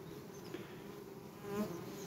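Guard honeybees at a hive entrance make a faint, steady buzzing hum that swells slightly near the end, with no voices.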